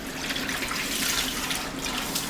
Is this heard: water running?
yes